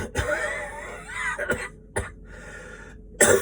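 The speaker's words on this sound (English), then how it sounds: "I'm coughing hard now though." A person coughs hard in several separate, forceful bursts with raspy breaths between them, close to the microphone.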